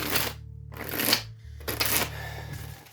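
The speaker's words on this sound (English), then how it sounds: "Let's pull Oracle cards, see what else there is." Oracle cards shuffled for a tarot reading, a steady papery riffling in several bursts with short pauses, close and fairly loud, with no talk.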